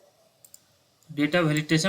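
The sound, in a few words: computer mouse clicking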